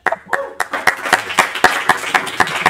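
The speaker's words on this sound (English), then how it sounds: "Yes, everyone clap." Audience at a Friday Hacks talk on Hack&Roll 2024 winning projects claps in unison: about a dozen sharp, close claps in a steady even rhythm, with faint chuckles between them.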